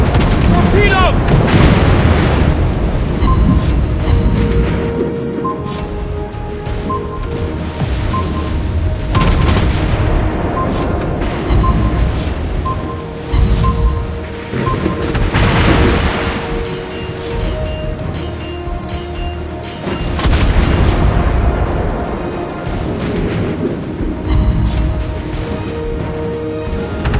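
Torpedo hits and gunfire explosions from a World of Warships Blitz naval battle with the USS Indianapolis, dense booming blasts and cannon fire layered continuously over a steady loud game soundscape with tonal music, with several heavier bursts standing out.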